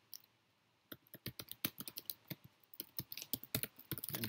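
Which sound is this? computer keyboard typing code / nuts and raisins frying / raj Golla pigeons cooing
computer keyboard typing code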